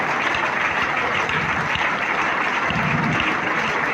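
An audience claps steadily and densely throughout a memorial tribute gathering, a continuous even roar of many hands with no voices.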